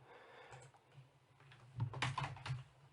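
Quiet clicking keystrokes on a computer keyboard, a few scattered taps followed by a quicker, louder burst of typing, heard close up with no speech.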